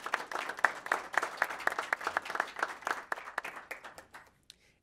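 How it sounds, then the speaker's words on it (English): Applause from the audience for the Animal Services staff at a city council meeting, with dense clapping that fades out near the end. "Let's give our staff at the Animal Services another round of applause."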